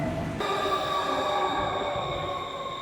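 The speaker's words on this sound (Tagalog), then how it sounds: "Paparating na ang susunod na tren." Train pulling into Carriedo Station, a steady rumble with sustained metallic tonal whine from the wheels and motors, fairly loud and close with no talk.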